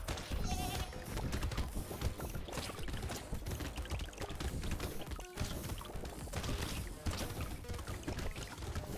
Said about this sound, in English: With dying sheep.